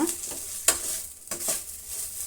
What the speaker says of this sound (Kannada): ಇದು ಒಂದು ನಿಮಿಷ ಫ್ರೈ ಆಗಲಿ